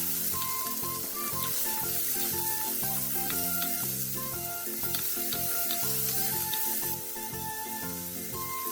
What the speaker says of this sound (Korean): 그 다음 채 썰어 놓았던 양파와 당근, 다진 마늘 1, 소금 3분의 1을 넣고 중불에서 볶아주세요.